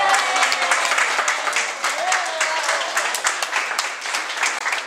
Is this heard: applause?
yes